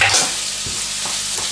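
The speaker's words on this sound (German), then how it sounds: "das Ganze brutzelt jetzt hier vor sich hin" Chopped bell peppers and other vegetables sizzle steadily in a frying pan, a close, loud continuous crackle with a few soft stirring scrapes and no voices.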